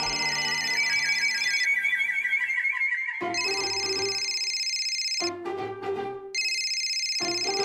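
A mobile phone ringtone plays a bright, repeating electronic melody in several bursts with brief changes in pattern, steady and fairly loud, with no talking.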